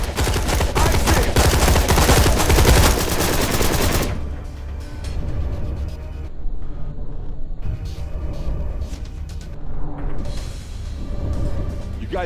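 Loud, dense automatic gunfire from the video game Dark roars for about four seconds, then gives way to quieter scattered game sounds and rumble.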